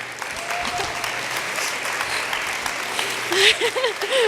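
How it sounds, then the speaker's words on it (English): Sustained applause from a conference audience rising to welcome a speaker, steady dense clapping with whoops and a voice cutting through near the end. "let's clap our hands and welcome Laurie Woodward"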